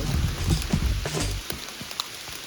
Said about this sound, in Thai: เสียงฝน